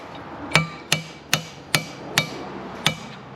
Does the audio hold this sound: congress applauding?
no